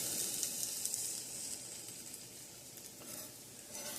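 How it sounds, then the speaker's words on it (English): Sourdough bread and burger patties browning in a pan on an outdoor stove, giving a steady close sizzle with brief stirring scrapes and bursts of hiss, with no talking. "I'm just browning my sourdough bread, making me some burgers."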